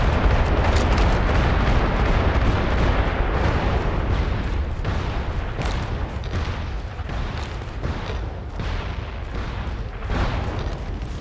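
Artillery fire-mission explosions in the video game MAG pound continuously for several seconds, a dense, loud barrage of overlapping booms and blasts with no pauses.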